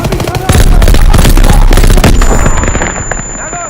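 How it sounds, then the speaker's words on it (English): Loud, close gunfire and explosions in the World War II shooter Call of Duty WWII on a D-Day mission, dense rapid bursts of automatic fire with heavy booms, a sustained barrage that thins toward the end. "I'm taking a shot! Lobbing a grenade!"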